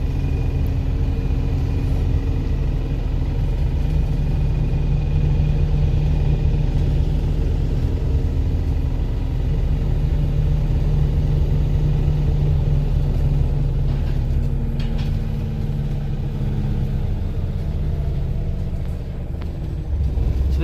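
Volvo B5LH buses with Gemini bodies on the Leeds guided busway, a steady deep engine rumble heard from inside, with drivetrain hum and a slowly shifting tone near the end.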